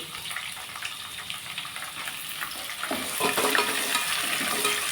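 Two long-cut onions frying in a pan for vangibath, a continuous crackling sizzle that rises louder in the second half, heard alone without talk.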